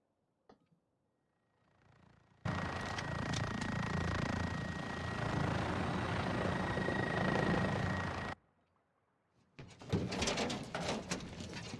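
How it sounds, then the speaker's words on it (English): An airplane arrives during a multiplayer video game match, a loud steady engine roar lasting about six seconds that cuts off abruptly, then gives way to sharp clicks and game noises. "Why did I come in on a plane?"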